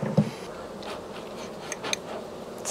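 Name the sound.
honeybee buzzing inside a queen cage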